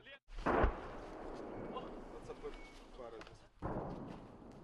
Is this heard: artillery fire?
yes